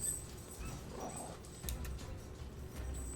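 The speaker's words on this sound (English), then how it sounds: "Let's get the troll hound." A troll hound in the video game Pathfinder: Kingmaker whimpers and yips in a few brief, faint, high-pitched bursts over a quiet background.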